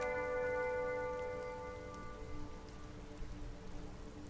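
Steady rain falling on surfaces in the video game Disco Elysium, a dense even patter that continues after a sustained tonal chord fades out.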